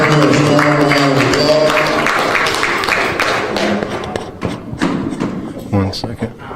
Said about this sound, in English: Let's give Pastor Turner a round of applause.